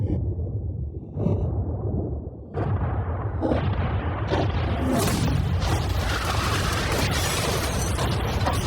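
Heavy explosions blowing up a yacht: a low boom, then a second burst swelling into a dense, roaring, crackling blast that stays loud to the end.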